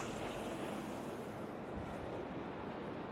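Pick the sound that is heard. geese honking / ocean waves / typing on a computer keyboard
ocean waves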